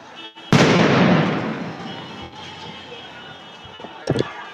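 Tear gas grenades go off during a police action against a street rally, one loud blast followed by a long rumbling roar that slowly fades, with a couple of smaller pops near the end.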